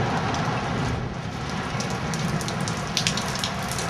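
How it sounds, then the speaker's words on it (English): Hail pelts down in a nighttime summer storm in Blaine, Minnesota, a steady dense hiss of falling ice and rain with scattered sharper ticks of stones striking nearby surfaces, moderately loud and without voices. "There's more hail."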